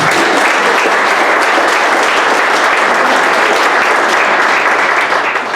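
A conference audience breaks into loud, dense, unbroken applause that fills the room for several seconds without letup.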